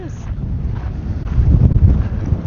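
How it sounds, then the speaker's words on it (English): Wind buffeting the microphone at canyon ruins in Picture Canyon, a loud continuous low rumble with gusty surges and no clear speech. "Sorry about the wind, guys."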